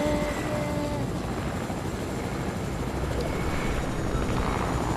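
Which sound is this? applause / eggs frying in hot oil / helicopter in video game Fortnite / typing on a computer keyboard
helicopter in video game Fortnite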